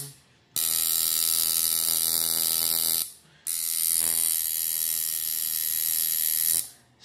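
A tattoo machine runs in two steady buzzing bursts, the needle driven back and forth with a tight mechanical rattle, loud and close, separated by a short pause.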